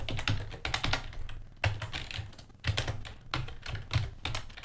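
Fast, uneven clatter of keys on a computer keyboard, close and continuous in short runs and pauses, with no talk over it.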